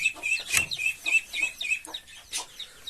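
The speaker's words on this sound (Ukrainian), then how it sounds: "їх давить квочка" A broody hen clucks repeatedly at close range, a steady run of short rhythmic clucks joined by a few sharper squawks, with no talking.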